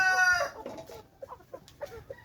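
A chicken clucks close by in a few short, sharp bursts after an opening squawk, loud and unaccompanied by talk.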